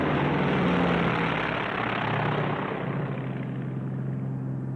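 A Tracker coastal patrol plane flies past with a dense roaring propeller engine drone, loud at first and slowly easing off as it moves away.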